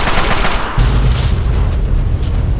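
A car explodes in Fallout 3 with a loud, close boom that hits hard and then falls into a deep rumbling roar with bursts of crackle.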